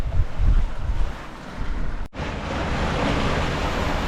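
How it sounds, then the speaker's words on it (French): Wind and breaking waves rush steadily past a sailboat under way in a 17-knot breeze on a passage from Porto Pollo to Ajaccio, with loud gusty wind buffeting the microphone throughout and a brief dropout midway. "Le vent est monté à 17 nœuds."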